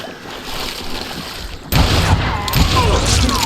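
Gunfire in the western video game Call of Juarez Gunslinger erupts as a loud, dense burst of shots partway through, cutting in sharply over a quieter ambient bed and rumbling on to the end.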